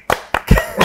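A few sharp, close hand claps, three or four quick strikes in under a second, loud and alone.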